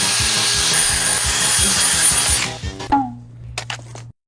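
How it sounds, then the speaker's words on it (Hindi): A dentist-style drill grinds into a block of ice with a sustained buzzing whine and rhythmic pulsing. It cuts off abruptly, and a few short scraping and cracking noises follow. "ऐसी एक ड्रिल है जो मेरा डेंटिस्ट मेरे दांतों के लिए यूज करता है।"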